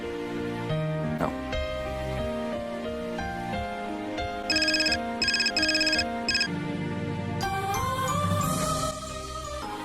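A phone ringtone plays while a call is placed in a dramatic short film, with a melodic tone and a stretch of rapid, evenly pulsed ringing bursts in the middle, mixed with other tonal music.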